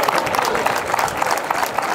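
A crowd at a folk music night in a Spanish village applauds visiting groups exchanging gifts. The clapping is dense and continuous, busy and moderately loud, with a murmur of voices mixed in.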